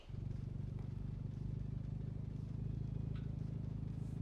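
A dirtbike engine idles steadily in the video game Project Third Eye, a continuous low, even putter holding a constant rhythm throughout with no revving.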